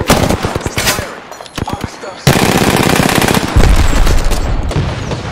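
Rapid automatic gunfire from the video game Apex Legends crackles in dense bursts, loud and close, with brief pauses between volleys and steady sustained fire through the latter half.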